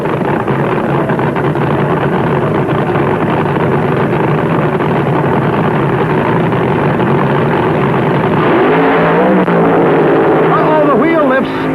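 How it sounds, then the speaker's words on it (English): Funny car drag racers from 1974 roar toward the finish line, a loud, sustained engine drone that swells near the end, heard under excited race commentary. "The wheel lifts on Miller's car, and that's just enough to let Prudhomme sail on into the finish line"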